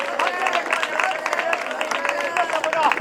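A church congregation at an open worship meeting claps loudly in quick, rhythmic bursts. Raised voices and cheers mix in, and the applause stays steady and close throughout.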